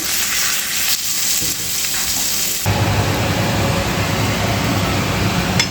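Halwa (pomfret) fish pieces fry in hot oil in a pan, a steady close sizzle that swells louder partway through and continues without speech.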